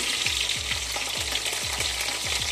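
Dry red and green chillies fry in hot oil with a steady close sizzle and crackle, punctuated by repeated soft knocks of stirring.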